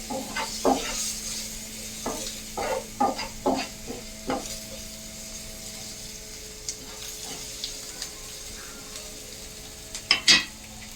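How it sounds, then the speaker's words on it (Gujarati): Finely chopped onion stirred into green chillies frying in a pan: steady sizzling with repeated spoon scrapes and clinks against the metal, close and fairly loud, with a quick burst of stirring near the end. "મરચાં થોડાક સટવાઈ જાય એટલે આપણે એમાં નાખશું 1 નંગ ઝીણી સમારેલી ડુંગળી। એને પણ આપણે મિક્સ કરી લઈએ।"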